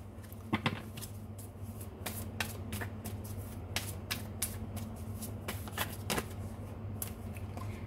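A deck of tarot cards being shuffled close by, with repeated crisp riffling flutters and snaps over a steady low background hum, no talking.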